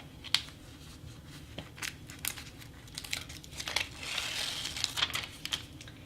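Paper backing peeled off a cut fabric pattern piece makes crinkly, tearing rustles in short bursts, close and fairly quiet, with no talking.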